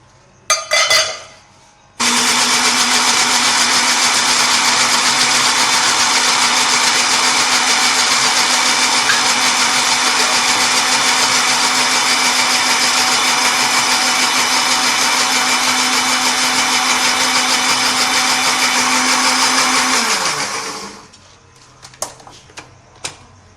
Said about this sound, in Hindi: अब इसे हम ग्राइंड कर लेंगे।